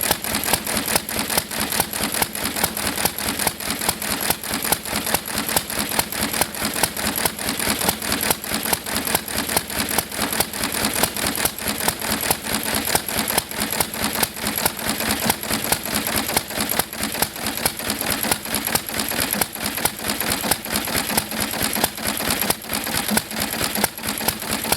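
A restored McCormick Deering M tractor engine runs steadily after its first start, a continuous, rapidly ticking mechanical clatter with no talk, holding an even level for the whole stretch.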